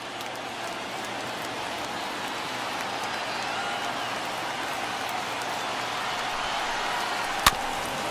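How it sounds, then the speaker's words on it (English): The stadium crowd at a Royals vs Red Sox game in MLB The Show 21 keeps up a steady, dense wash of cheering and applause, with one sharp crack near the end. "Now what's left of this crowd this afternoon gets to their feet."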